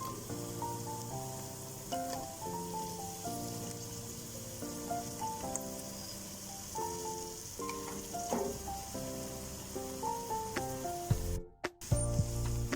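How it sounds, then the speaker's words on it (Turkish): Cauliflower sautéing in a pan for a home-style cooking recipe, a soft continuous sizzle and crackle running the whole time, faint and close, with a few light clinks near the end and no talking. "2-3 dakikada karnabaharlarla beraber bu şekilde kavuralım"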